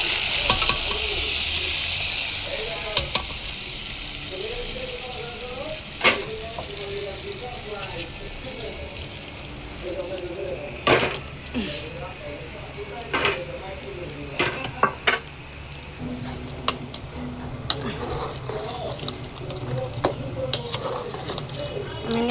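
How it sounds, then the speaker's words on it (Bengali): Fried onion, garlic and chili tempering is poured into a beef trotter nehari, producing a loud sizzle with pot and spoon clatter and sharp clinks, while a voice talks intermittently over it. "আমার পেঁয়াজ, রসুন, মরিচ ভাজা হয়ে গেছে। এখন আমি দিয়ে দিব নেহারির মধ্যে ঢেলে।"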